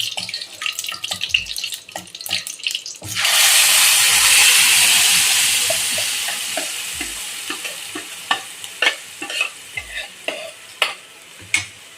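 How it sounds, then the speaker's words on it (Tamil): Blended spinach for palak paneer is poured into a hot pan and bursts into a loud, sustained sizzle that slowly fades. Clicks and stirring scrapes come before and after, with no voices. "இப்போ பிளெண்ட் பண்ணோம் இல்லைங்களா, இந்த கீரை இதில் ஊற்றிக்கலாம்."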